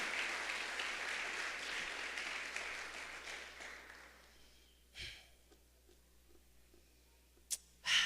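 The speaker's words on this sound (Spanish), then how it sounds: "Dale una ofrenda de palmas al Rey de Reyes" A church congregation at a Spanish-language sermon claps together in a dense, steady burst of applause that gradually thins and fades out after several seconds, leaving a quiet room with a few faint stray noises.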